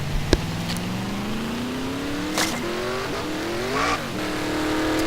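A winged sprint car on the Michigan oval climbs steadily in pitch as it works back up to racing speed, its engine drone loud and continuous with a sharp crack near the start and brief bursts of noise along the way.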